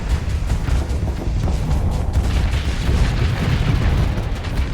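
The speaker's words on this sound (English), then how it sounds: "the squalls, when they start firing, they're just like, refuse to not fire. Because it's a volley." Squall missile volleys firing in Starsector, a loud continuous barrage of overlapping booms and bursts rumbling without a break.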